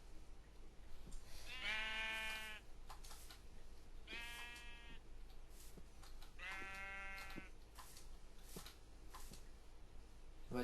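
Sheep in the game Minecraft bleat three times, each a short wavering call spaced a few seconds apart, over a steady background of game ambience with no talking.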